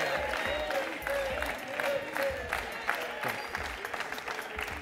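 Studio audience applause on a Greek game show, a broad sustained clatter of many hands clapping together, loud and steady throughout with occasional voices mixed in.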